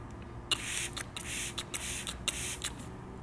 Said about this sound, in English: So it's a spray bottle, and when you go to spray it